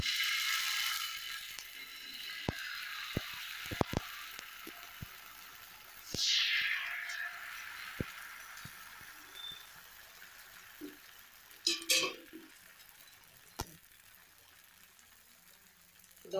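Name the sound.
amla dosa batter poured onto hot griddle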